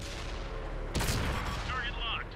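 A tank main gun fires in the World of Tanks console game, a single sharp loud blast cutting through a low engine hum, followed by a ringing, fading tail.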